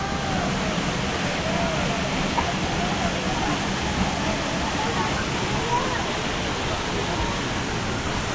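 Balagbag Falls waterfall, a constant broadband rush of falling water, loud and unbroken throughout, with people talking faintly over it.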